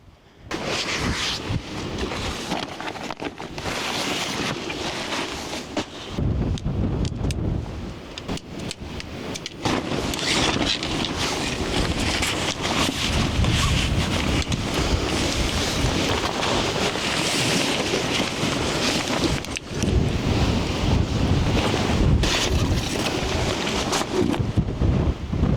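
Strong wind gusting outdoors in stormy weather, a steady roaring rush with rumbling buffeting on the microphone, loud and continuous throughout with no talking.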